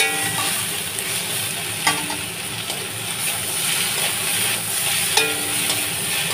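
Potatoes and pointed gourd fry in a pan with a continuous, fairly loud sizzle, and stirring adds occasional scrapes and clinks throughout.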